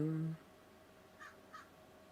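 Two crows cawing somewhere in the distance, each a short faint call with a brief gap between them, following someone speaking indoors.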